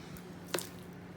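A single wet squish as slime is pressed by hand, one brief sticky squelch in the middle of an otherwise quiet moment.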